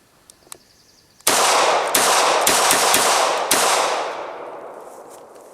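A Hi-Point .380 pistol with super glue in it fires several loud, sharp shots in quick succession close by, each followed by ringing echo that fades away after the last one.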